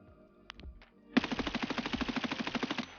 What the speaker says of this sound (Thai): เดี๋ยวผมลองใช้คูณยิง